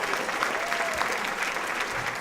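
An audience applauding at a justice conference keynote, a continuous burst of many hands clapping that stays loud and even for the brief stretch.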